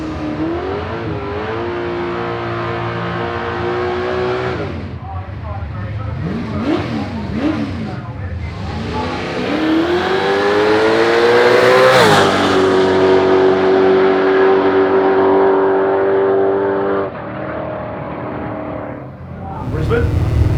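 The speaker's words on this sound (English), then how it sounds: "This car runs the classic single cam RB30 and Motec" A car with a single-cam RB30 engine and Motec management revs and drives at a street event, rising harmonics climbing to a peak and then holding a steady tone, with talk over much of it.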